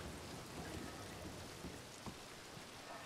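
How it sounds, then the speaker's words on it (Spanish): Steady rain falls in a video game, a dense even hiss of drops with faint scattered patters, continuous and soft with no voices. "Hostia, que llueve."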